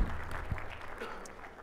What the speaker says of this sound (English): let's give a round of applause to Matt.